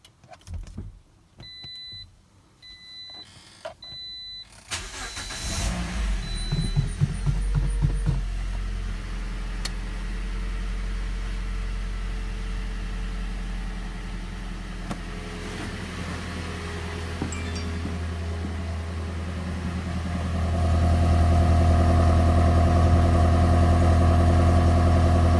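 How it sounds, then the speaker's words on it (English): A Toyota Corolla engine cold-starts after a few clicks and beeps, catches with a surge, then settles into a steady idle nearby before the idle note rises and thickens toward the end. "Give you guys a cold start."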